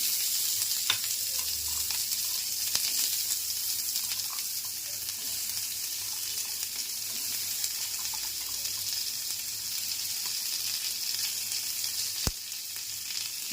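Vegetables fry in oil on a tawa with chopped garlic and green chilli, giving a steady, even sizzle with faint stirring clicks and no voices.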